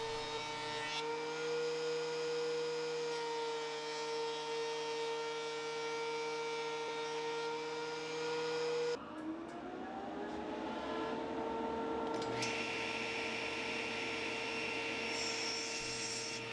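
A thickness planer planing ash wood drones loudly with a steady mechanical hum and a tonal whine that shifts midway as the load changes, running close by.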